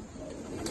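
Malwai pigeons coo softly in a loft, a low faint murmur lasting under a second.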